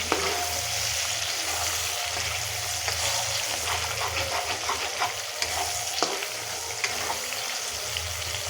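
Masala for matar paneer curry sizzling and frying in a pan, a continuous hissing crackle with occasional spoon stirs, close and steady throughout with no talking.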